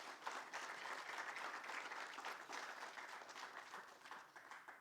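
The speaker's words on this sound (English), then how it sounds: "Let's all give ourselves a round of applause for that." An audience at a community league plaza ribbon cutting claps steadily for several seconds, a dense, even wash of applause from a moderate-sized crowd with no talk over it.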